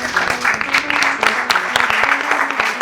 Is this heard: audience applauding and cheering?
yes